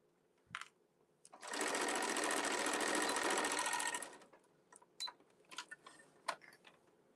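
A sewing machine stitches steadily across the open corner of a market tote bag, a dense continuous whir lasting a couple of seconds, framed by small clicks and handling noises before and after.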